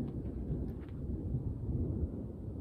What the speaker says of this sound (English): And the thunder.